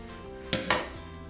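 Two quick sharp snips cut the excess chunky yarn from a hand-knit heart, close and fairly loud, a brief pause between them over a quiet room.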